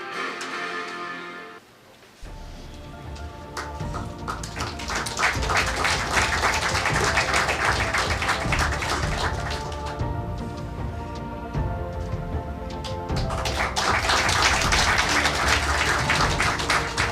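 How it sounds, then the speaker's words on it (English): An audience applauds at an international awards ceremony as a recipient comes up to receive an award from a state governor. After a brief quiet start the applause swells into loud, sustained clapping over tonal background music. "Let's give a big round of applause to Sri Binoy Sebastian"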